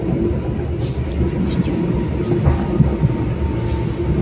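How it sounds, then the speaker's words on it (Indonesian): An Indonesian commuter train rolls along with a steady loud rumble of wheels and carriage, close by, with faint hissing brake or air sounds now and then and no talk. "Menggunakan jasa angkutan kereta api komuter Indonesia."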